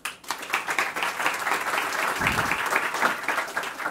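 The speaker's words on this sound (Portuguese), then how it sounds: "recebemos ele com uma salva de palmas." Dense audience applause welcoming a speaker at a presentation, many hands clapping steadily and loudly for several seconds with no pause.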